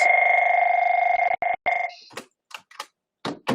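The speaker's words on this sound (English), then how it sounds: "my phone was ringing" A phone rings up close, a loud continuous electronic two-tone trill that cuts off abruptly, followed by a few short clicks and taps as it is handled.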